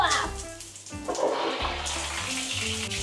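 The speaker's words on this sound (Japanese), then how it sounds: "上から出てきた。 幅広でいい感じ。 シャワーの水圧もいい感じですね。" Water from a wide overhead shower head in a hotel shower room at the InterContinental Robertson Quay, Singapore, splashes loudly and steadily onto a wood-grain floor, starting with a gushing surge and then running continuously.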